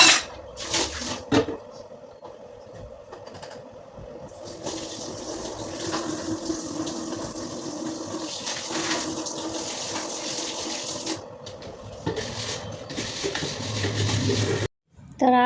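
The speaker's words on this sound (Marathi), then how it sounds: "2 भांडी पण पडलेली ती घासून घ्यायची" Running tap water splashes while a couple of dishes are scrubbed and a floury kitchen counter is rinsed, with intermittent clatters, gaps and shifting flow, ending in an abrupt stop.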